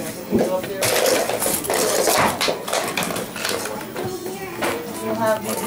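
Dishes and cutlery clink and clatter while being washed, a busy run of close, bright knocks and chinks mixed with running-water noise, with people talking over it.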